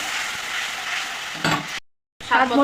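Masala fries in a pan just after water is added, a steady close sizzle with stirring scrapes. It breaks off for a moment of silence, then resumes with a sharp hiss.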